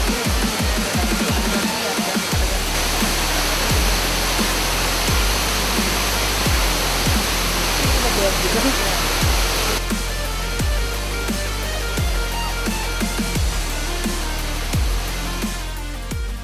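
A waterfall at Curug near Bogor roars in a steady, dense rush of falling water, loud and unbroken throughout, with a few faint low thumps beneath and no one speaking.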